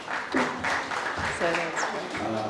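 Audience applause at a university fireside chat with a company CEO, a short burst of clapping heard close, mixed with a speaker's voice.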